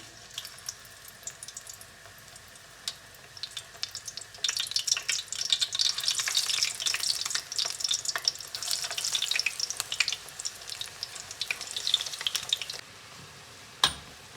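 Pieces of lavash frying into baursak in hot oil in a cauldron, a busy crackling sizzle that swells after a quiet start and keeps popping steadily, ending with a sharp clink, no talk.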